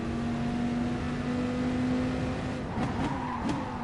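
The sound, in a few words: race car throttle taps at Spa in racing game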